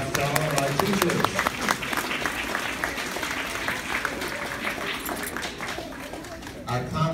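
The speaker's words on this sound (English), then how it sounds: "Let's give a round of applause to all of our teachers." An audience at a school concert claps for the teachers in sustained, dense applause from start to finish, with a speaking voice over it.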